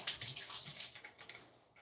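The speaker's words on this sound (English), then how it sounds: "you pull in water, and you shake, shake, shake" Water sloshed inside a container being shaken to rinse out soap during a tidying session, a quick run of splashy, fairly faint sloshes that taper off near the end.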